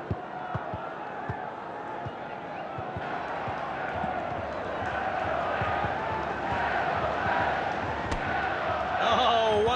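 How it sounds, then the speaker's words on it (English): A football stadium crowd roars in a broad, steady wash of cheering that slowly swells toward the end, with soft thumps early on. "And the crowd are well behind their team now."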